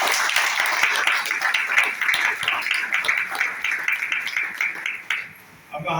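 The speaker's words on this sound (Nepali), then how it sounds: "यसमा हामी जोरदार ताली बजाएर हामी स्वागत गर्छौँ।" A church congregation claps loudly in welcome of a new member, dense sustained applause that thins out near the end.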